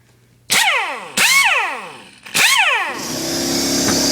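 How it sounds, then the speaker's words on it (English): Three sharp, loud pneumatic impact gun bursts from a Central Pneumatic tool, each spinning down, are followed by a shop air compressor starting up and running steadily nearby. "my air compressor kicks on like that"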